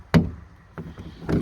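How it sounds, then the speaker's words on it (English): A SpaceKap Compak slide-in truck cap's side door gives three short hollow clunks and knocks as it opens, close and fairly loud against quiet surroundings. "Side door opens up."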